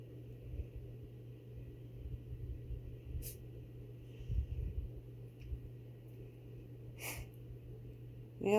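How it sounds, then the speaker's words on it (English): A cat sneezes in a quiet room, two short, sharp bursts a few seconds apart against a faint steady hum, followed by a brief snuffle at the end. "It's a really big sneeze."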